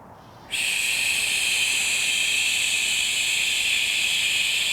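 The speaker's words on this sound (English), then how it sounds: "This SH sound is very good for cleansing the liver." Exhaled breath shaped into a long steady SH sound during a qigong breathing exercise, a soft close hiss starting abruptly and held evenly for several seconds.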